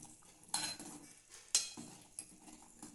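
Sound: stirring curry with coriander powder in a pan

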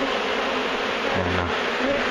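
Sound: honeybees buzzing during hive removal

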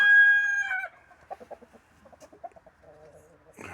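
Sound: chickens clucking

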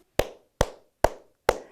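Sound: clapping out word syllables in a syllable-clap activity

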